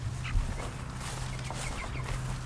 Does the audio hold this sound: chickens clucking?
yes